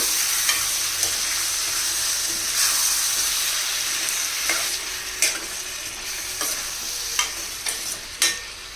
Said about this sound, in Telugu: ఇప్పుడు దుంపలు వేసేసుకోవాలండి బాగా కలపాలి